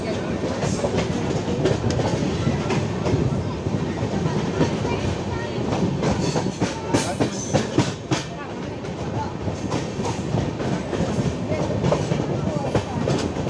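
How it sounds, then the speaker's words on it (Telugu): The Visakha Express rolls into Ichchapuram station, heard from on board as a loud, steady rumble with repeated clickety-clack of wheels over rail joints, and voices faintly underneath. "ఫ్రెండ్స్ మా ట్రైన్ అనేది ప్లాట్ఫామ్ నెంబర్ 2లోనికి పెట్టాడు."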